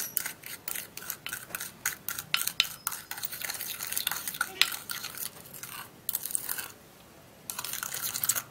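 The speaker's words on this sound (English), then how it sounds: "we'll stir." A toothpaste and sugar lip scrub mixture is stirred in a small container, making repeated gritty scraping strokes in a quick steady rhythm, close and fairly quiet, with a brief pause near the end.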